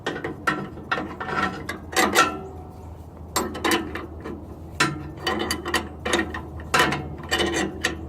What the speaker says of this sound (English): Where's that wrench? Just give it a quick little bit of looseness.